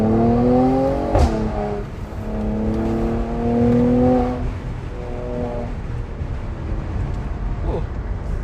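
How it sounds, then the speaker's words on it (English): A 2019 Mercedes-AMG C43 engine revs up and down under throttle modulation, heard from inside the car as a loud, steady drone with repeated rising and falling pitch swells and some wind noise. "I love how you can just modulate the throttle just like that and enjoy that sound"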